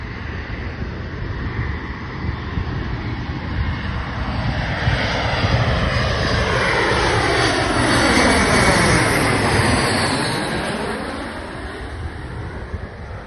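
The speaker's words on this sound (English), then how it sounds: "We got a Boeing 737-924ER, United Airlines, arriving in from EWR, Newark Liberty International Airport." A United Airlines Boeing 737-924ER arrives at O'Hare from Newark. Its engine roar builds and then fades as it passes, with a sweeping whine and some wind buffeting on the microphone, and no voices.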